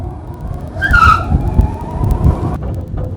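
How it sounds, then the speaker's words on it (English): An open-top electric conversion car pulls away with a brief tire chirp and a low, steady rolling rumble, loud and close, with no one speaking. "I'm just going to turn this thing on and give it gas, and we're going to go for a ride."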